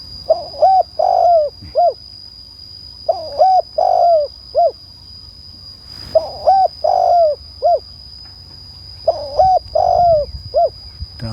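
Large turtle doves at a dove-calling contest give repeated cooing phrases in regular bursts, loud and near, separated by short pauses, with a steady high electronic tone running underneath.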